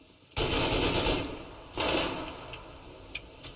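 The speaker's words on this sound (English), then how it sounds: "The hills are certainly alive with the sound of gunfire" Gunfire in the DeadMatter video game: two bursts of automatic fire, the first longer, then trailing faint shots and a tick, fairly quiet and without talk.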